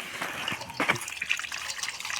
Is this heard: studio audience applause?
no